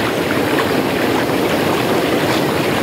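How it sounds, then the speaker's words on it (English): Strong water pours steadily over Madongan Dam in Dingras, Ilocos Norte, a loud, unbroken rushing roar close by with no pauses. "Water flow is a bit stronger here in the middle."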